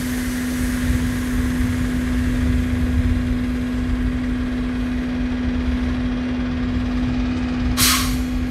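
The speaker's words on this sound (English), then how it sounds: "all the tow truck are here to tow the" A tow truck idles with a steady engine drone and low rumble on a street after a storm, a short hissing burst near the end, no voices.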